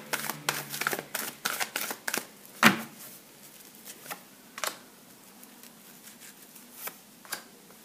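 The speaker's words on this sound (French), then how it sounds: "Je vais tirer 3 cartes supplémentaires." Tarot cards are drawn and handled from a deck, a quick cluster of close, crisp flicks and taps at the start, then sparser, fainter snaps and shuffles with quiet gaps.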